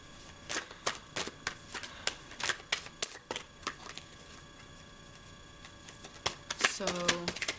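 Tarot cards are shuffled in a run of quick, crisp riffling snaps with short pauses between bursts, close and fairly quiet, with a soft voice briefly heard near the end.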